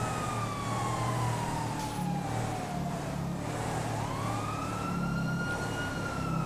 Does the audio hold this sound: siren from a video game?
yes